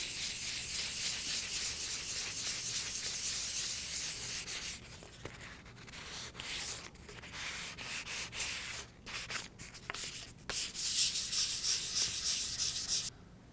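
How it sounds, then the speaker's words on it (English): Paint on a Hartzell composite propeller hub being lightly scuffed with 400 grit sandpaper, a close, steady rasping rub that continues with brief pauses and changes of stroke, with no talking. "I'm going to use 400 grit sandpaper"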